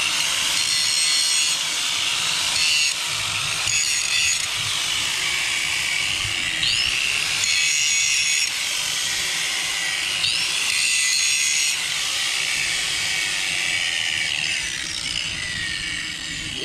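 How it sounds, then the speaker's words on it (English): A grinder works metal on the Dana 60 truck axle before welding, a loud, steady high-pitched grinding rasp with repeated strokes and slight pitch swoops, close and uninterrupted throughout. "I need to grind that down"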